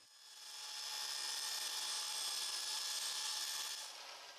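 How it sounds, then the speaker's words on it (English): A saw rips a plexiglass sheet to size in one continuous, even, high-pitched buzzing pass lasting a few seconds that fades slightly at the end. "Plexiglass is ripped to size to cover the hardware."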